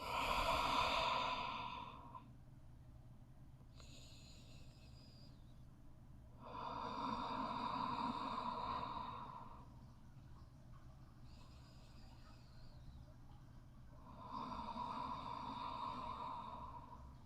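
Slow, deep breaths during a yin yoga pose, three long airy exhalations spaced by quieter inhales, close and soft with no talking.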